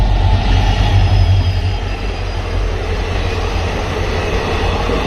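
An Intercity Express train rushes past at high speed on the Hosur–Yeshwanthpur line near Bangalore, a loud, continuous roar of wheels and rumbling carriages that eases slightly midway and holds steady to the end.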